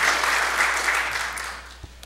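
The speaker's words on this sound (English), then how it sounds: "Let's give him another round of applause and thanks for his hard work on today's event." Audience applause at a manufacturing industry briefing fills the room, a dense steady wash of many hands clapping that slowly fades toward the end.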